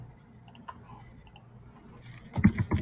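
Typing on a computer keyboard, faint scattered key clicks at first, then a quicker, louder burst of keystrokes near the end.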